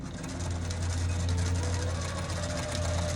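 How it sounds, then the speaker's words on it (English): A sewing machine runs steadily, stitching fabric for a reversible bowl cover and finishing with a back stitch. Its close, loud, continuous whir and motor hum carry without a break from start to end. "now I'll give that a back stitch right there"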